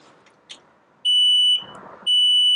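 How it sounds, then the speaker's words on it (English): Engine alarm on a boat warning of overheating and low oil pressure: two loud, steady high-pitched electronic tones, each about half a second long, separated by a short gap, with faint background noise between them. "That's the alarm for overheating and low oil pressure."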